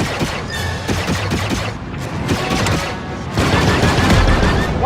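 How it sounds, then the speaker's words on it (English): A ship turret fires in the Star Wars Outlaws video game, a dense, rapid stream of blaster shots with booming hits, loud and continuous and swelling toward the end. "Turret activated, Kay."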